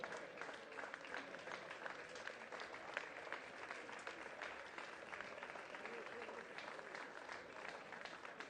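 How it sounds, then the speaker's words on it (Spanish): Applause for a cycling race winner at a podium ceremony, a dense, steady clapping from a crowd that continues evenly throughout at moderate distance. "Ese fuerte el aplauso para él."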